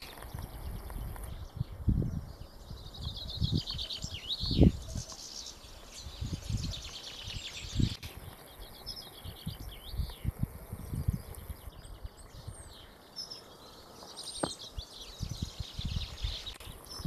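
Small birds twitter and chirp around a bird box outdoors on a snowy day. The calls come in faint, scattered bursts over low rumbling and knocking noises close by.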